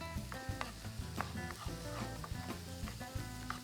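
Onion and garlic sizzle steadily in a hot pan, a close, continuous crackle with light scraping and stirring clicks scattered throughout.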